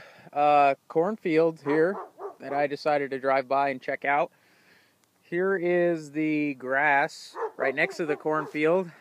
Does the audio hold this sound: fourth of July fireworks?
no